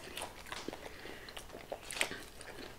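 McDonald's french fries being bitten and chewed up close, quiet soft crunches and mouth sounds in a few irregular bursts, faint overall with no talking.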